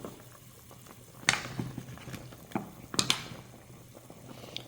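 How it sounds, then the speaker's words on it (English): A lamb and chicken stew boils in a pot, with soft bubbling and a few sharper pops and splashes at irregular moments over a low steady simmer, close and fairly quiet. "I'm just going to continue to let this boil"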